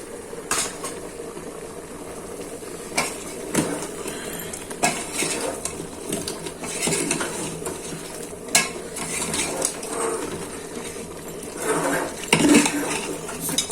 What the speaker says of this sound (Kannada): ಧನಿಯಾ ಪುಡಿ ಪೌಡರ್ ಎಲ್ಲ ಹಾಕಿದ್ದೀನಲ್ಲ ಅದೆಲ್ಲ ನೀಟಾಗಿ ಮಿಕ್ಸ್ ಆಗೋಗೆ ಮಿಕ್ಸ್ ಮಾಡ್ಕೊತೀನಿ.